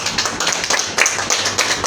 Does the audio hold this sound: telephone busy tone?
no